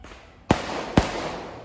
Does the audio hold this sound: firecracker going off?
yes